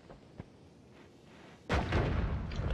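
Bombs going off in the video game Noita, with a faint pop early on and then a sudden loud blast that rolls into a sustained rumbling roar.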